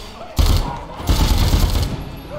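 Lobster gun firing in Dead Rising 4, loud booming blasts that start abruptly and pound in a rough burst, a second surge following about half a second later, with a voice underneath.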